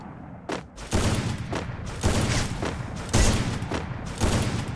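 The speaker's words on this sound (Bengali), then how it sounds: "এনিমির পেটের সাইডে স্নাইপারে এইমটা রাখবেন তারপর লাফাতে লাফাতে ফায়ার করবেন" Sniper rifle (AWM) shots in the Free Fire video game, fired while the character jumps: several loud, sharp reports spaced roughly a second apart over continuous gameplay noise.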